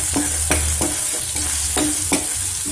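Ginger-chili paste with crushed whole coriander sautéing in a hot pan, a steady close sizzle broken by several scraping stirs of a spoon, with no voices.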